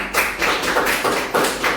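Students in a classroom clap together in a few loud, close bursts of rhythmic claps, roughly evenly spaced, with no talking over them.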